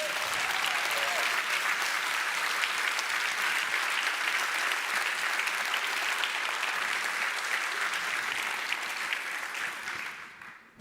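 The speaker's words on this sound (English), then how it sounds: "Let's all give them a big round of applause." Audience at a conference awards ceremony in a municipal theatre claps in sustained, dense applause that stays loud and steady for about ten seconds before tapering off at the end.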